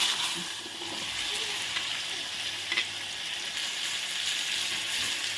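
Raw mango pieces drop into hot oil seasoned with asafoetida, and a steady, close sizzle of frying follows with light stirring, carrying on evenly throughout.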